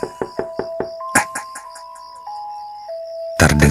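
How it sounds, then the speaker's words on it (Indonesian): A series of knocks on the front door of a house, about six sharp raps in a quick run, followed by chiming tones and a loud burst of noise at the end. "terdengar suara ketukan pintu di depan rumah"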